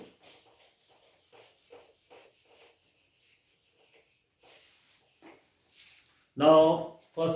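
A board being rubbed clean of writing during a rigid body kinematics lecture, heard as a short burst of loud rubbing near the end after quiet stretches of faint talk.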